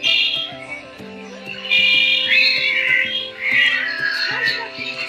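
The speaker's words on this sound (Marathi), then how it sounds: "आणि इथं दोन मांजराची लय वेळ झालं भांडणं चालू आहेत." Two cats fight outside the Kalbhairavnath temple in Daund, trading long, wavering yowls and moans that rise and fall in overlapping, drawn-out cries.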